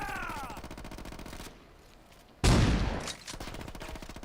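Automatic fire from an M4 rifle in Saints Row 2: rapid bursts open and close the stretch, with one loud, heavy blast in the middle. There is no talking.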